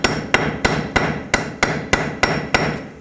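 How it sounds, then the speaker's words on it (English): A hammer strikes a punch to drive a stuck front axle out of the wheel hub of a 2007-2009 Saturn Aura, with nine sharp metallic blows at a steady, fairly quick rhythm, close and loud with no talk. "punch the axle through"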